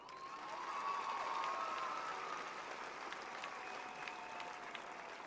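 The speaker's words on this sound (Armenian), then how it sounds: "ուզում եմ առիթը օգտագործել և ձեզ խնդրել, որ միասին ծափահարենք մեր կառավարությանը" Audience applause for the government at a gathering in Gegharkunik, a soft, distant, sustained clapping that swells slightly and holds steady, faint overall.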